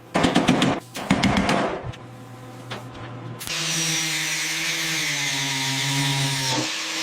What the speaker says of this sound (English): Grinding it smooth.